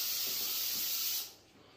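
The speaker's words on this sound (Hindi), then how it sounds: "हो स्प्रे कर रही है दीदी" A spray bottle hisses in one steady, close burst of about a second and a quarter, then cuts off to a quiet room.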